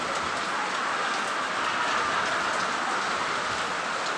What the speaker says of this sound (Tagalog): Pero ganyang ulan, mahirap na.